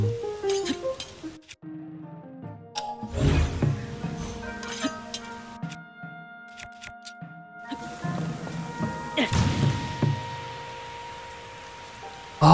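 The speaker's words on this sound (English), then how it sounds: "Oh, because it's raining." Steady rain patters and hisses throughout in Zelda: Tears of the Kingdom, mixed with music and occasional game sound effects.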